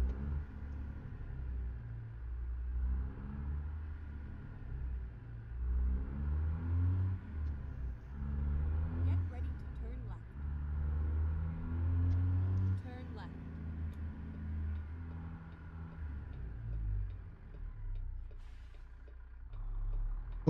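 Truck engine in American Truck Simulator pulling away, a low rumbling drone that rises and falls through gear changes beneath someone talking steadily throughout.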